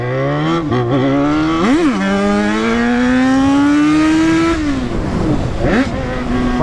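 A Yamaha XJ6 motorcycle revs hard and accelerates close by, its engine note climbing in pitch through long pulls with brief dips between gear changes, loud and dominant throughout.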